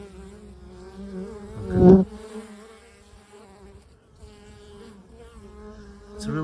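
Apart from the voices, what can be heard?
bees buzzing in hive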